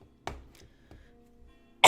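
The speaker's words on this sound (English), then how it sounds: "I still have this damn cough." A person's cough, a few short harsh bursts spread over two seconds, with the loudest and broadest burst at the end, close and alone without talk.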